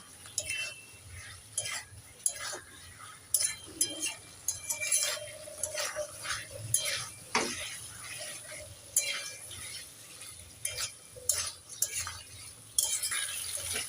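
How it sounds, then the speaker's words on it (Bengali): Chopped tomatoes stirred with a spatula in a pan of spiced oil, giving repeated scraping and clinking strokes over a soft sizzle, close and moderately loud, with no talk. "কেটে রাখা টমেটো একটু নেড়ে ছেড়ে দিয়ে দেব"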